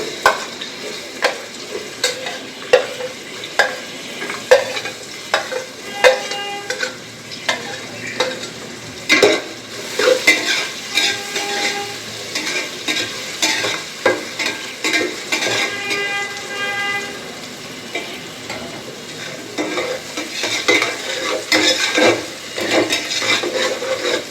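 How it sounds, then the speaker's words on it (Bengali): Onion and garlic frying in oil in a pan for bhuna khichuri, a loud continuous sizzle broken by frequent rhythmic scraping strokes of a spatula, close by, with no one talking. "প্রথমে আমি তেলটা দিয়ে দিলাম তেলের মধ্যে পেঁয়াজ রসুন দিয়ে দেবো"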